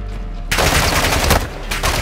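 Sudden loud, sustained gunfire in Call of Duty Warzone DMZ, a dense close barrage that erupts after a quiet half-second and keeps going to the end.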